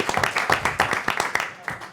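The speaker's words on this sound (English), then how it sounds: "let's give them a big round of applause for that." Audience at a city council meeting giving a round of applause, a short burst of distinct, fairly close hand claps in a loose rhythm.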